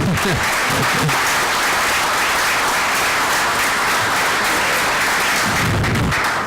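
Dense, loud audience applause fills a room after a talk at a cultural small-business event, steady and unbroken throughout, with a few low thumps near the start and end.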